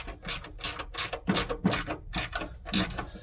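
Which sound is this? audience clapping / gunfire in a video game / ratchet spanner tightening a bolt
ratchet spanner tightening a bolt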